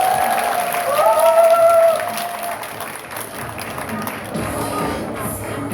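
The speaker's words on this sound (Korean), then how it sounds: "다시 한번 뜨거운 박수 부탁드립니다" Audience applause at a Korea National Open University student council officers' leadership-training event, loud dense clapping from a crowd. A voice speaks over it at the start, and the clapping keeps going steadily to the end.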